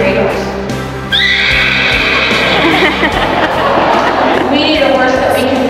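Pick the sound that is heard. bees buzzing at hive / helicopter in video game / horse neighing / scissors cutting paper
horse neighing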